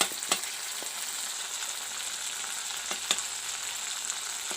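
Curry masala frying in a pan for a snail and potato curry, a steady close sizzle broken by a few sharp pops and spatters.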